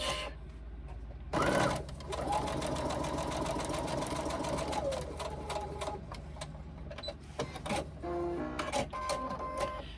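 A sewing machine top-stitches a pocket pouch, running in close, steady bursts of rapid mechanical stitching with short pauses between runs.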